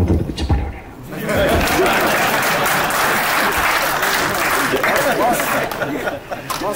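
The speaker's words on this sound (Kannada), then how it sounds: "ಚಪ್ಪಾಳೆ ಹೊಡೆಯೋಣ" A large audience claps loudly and steadily at a launch event for a lyrical song from the film KD, the sustained applause mixed with cheering chatter from the crowd.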